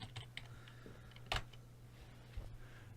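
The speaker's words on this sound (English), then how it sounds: "Follow along with what I'm typing." Typing on a computer keyboard in a hearing-centre office, with irregular clicks and a few louder key strikes over a steady low hum, close and fairly quiet.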